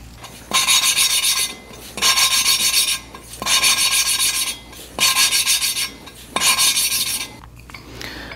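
An engine valve from a Yamaha XS400 is lapped with grinding compound: five loud gritty rasping bursts of about a second each, separated by short pauses, close by and with no speech.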